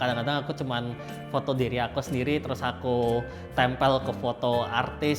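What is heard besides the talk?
No everyday noises stand out.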